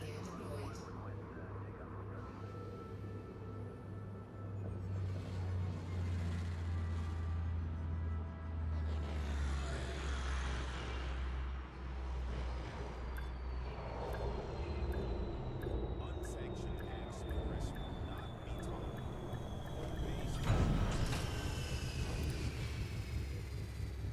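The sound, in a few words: spaceship landing sequence from a video game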